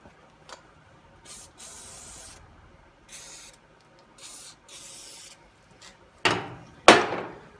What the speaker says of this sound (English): we'll get us a little bit of lube on that